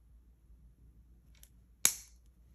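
Wire cutters snip the end of a jewelry head pin with a single sharp, close click, preceded by a faint tiny tick and otherwise near silence.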